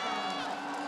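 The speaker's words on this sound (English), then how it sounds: "I can hear the crowds are saying no." A large esports arena crowd at the 2023 League of Legends Worlds grand final, T1 versus Weibo Gaming, shouts together in a sustained, loud, tonal chant that fills the hall.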